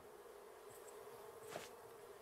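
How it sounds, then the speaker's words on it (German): Bees buzzing in the survival video game Raft, a faint steady insect hum with a brief louder swell near the middle, with no talking. "Ach, kommt her, ihr Bienen."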